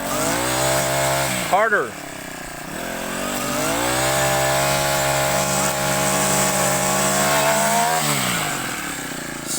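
A two-stroke grass cutter engine runs steadily and loudly throughout, briefly revving as the trimmer is spun and knocked against the ground, while a person speaks over it.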